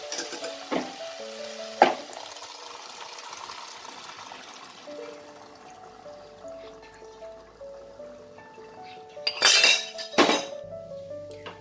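Boiled yellow peas go into frying mutton keema in a pan, with sharp clinks of a metal spoon against the pan, a steady soft sizzle and bursts of scraping and stirring, close and fairly quiet.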